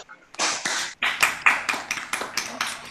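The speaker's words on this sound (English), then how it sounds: "let's have a round of applause for him" A small audience applauds after a solo piano performance at a virtual recital. Several rapid hand claps are heard up close and clearly, with no talk over them.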